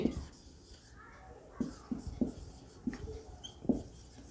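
Marker squeaking on a board as an English example sentence is written out, several short, fairly quiet strokes in an irregular rhythm against a low room background.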